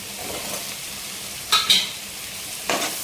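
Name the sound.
stirring potato and carrot pieces frying in a pan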